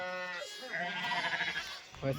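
Sheep bleat in quick succession at a farm where oxen are also kept, several wavering calls overlapping at moderate loudness with a voice talking alongside them.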